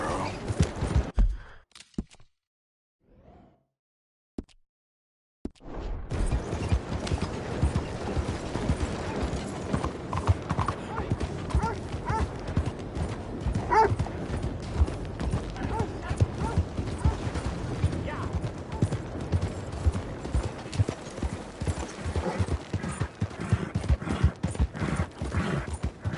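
A horse gallops in Red Dead Redemption 2, its hooves clip-clopping in a steady, fast rhythm under game ambience after a brief near-silent gap at the start.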